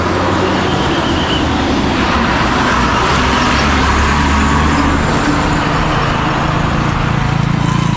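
A red MSRTC Lalpari state transport bus climbs a hill on a village road, its engine a loud, close, steady rumbling roar that carries on without a break.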